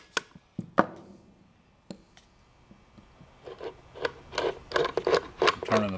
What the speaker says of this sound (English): I'm going to use the ratchet again. Go two full turns. Tap it again.